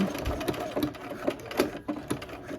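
A sewing machine stitching a buttonhole stitch on quilt block fabric, its needle thumping in a quick, steady rhythm of repeated clattering pulses, close and clear with no voices.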